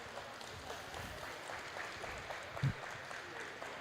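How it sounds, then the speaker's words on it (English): Applause for the technicians at a fixed operations tournament, a faint, distant patter of clapping from a crowd, steady and low-level with one brief louder thump near the end. "let's give a round of applause to our technicians"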